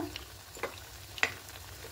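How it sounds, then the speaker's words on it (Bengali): Ripe mango golgola fritters fry in hot oil with a soft, steady sizzle, broken by a few close crackles and pops. "এগুলো ঠিক ওইভাবে করে ভেজে নেব।"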